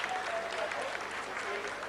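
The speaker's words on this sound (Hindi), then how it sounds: "आप तालियों के गड़गड़ाहट से सुन सकते हैं" Applause in mission control during the Chandrayaan-3 lunar landing's vertical descent phase, a steady rush of clapping heard faintly with a voice talking over it.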